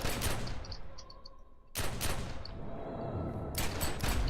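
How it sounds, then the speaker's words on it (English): Dual pistols firing in The Secret World, loud bursts of rapid shots with a brief lull near the middle before the firing resumes, no voices over it. "Oh, you can't beat dual pistols."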